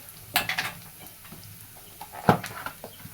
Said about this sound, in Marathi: त्याला असं सगळं फिरून घेऊया मसाले आपले परतून घेऊया आपण